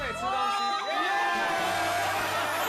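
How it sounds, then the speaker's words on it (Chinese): A studio audience on a Taiwanese variety game show cheers and shouts in a loud, sustained burst that fills the whole moment, with music-like tones running underneath. "掌声鼓励"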